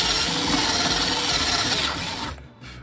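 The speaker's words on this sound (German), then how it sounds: "Da PLA sich aber wunderbar bohren lässt, schauen wir mal." A drill bores a hole through a 3D-printed PLA helmet with a loud, continuous rasping whir that holds steady and then drops away near the end.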